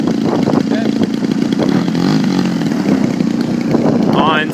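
Edge540 model airplane with a 28x9.5 Falcon propeller, its engine running on stock mufflers on a windy day, a steady loud buzzing drone with faint voices underneath.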